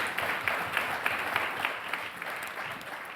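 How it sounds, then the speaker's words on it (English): Audience applause at the close of a conference panel on migration and asylum policy, a steady wash of clapping from a crowd that runs through the whole stretch without voices. "Round of applause, please"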